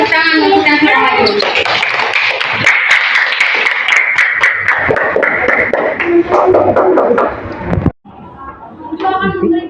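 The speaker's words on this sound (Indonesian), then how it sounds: "Kita beri tepuk tangan untuk yang sudah maju." A classroom full of students claps for classmates who presented, a sustained burst of loud, dense applause over several seconds. It stops abruptly, and a voice is heard before and after.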